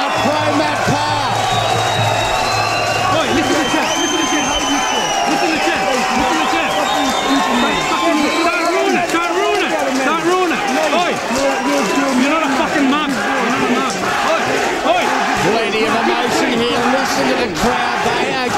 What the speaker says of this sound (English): Oh, the crowd love it.